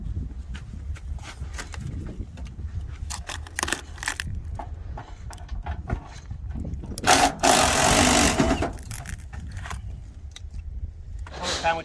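Power tool working on old Mopar car parts in a 1930s Dodge, Plymouth, Chrysler and DeSoto hoard, a harsh burst of grinding over steady clatter and handling noises, with people talking nearby.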